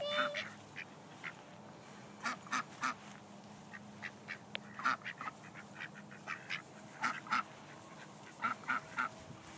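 Ducks quack in scattered bursts while being fed outdoors, fairly close but modest in level, with soft voices and background murmur between the calls.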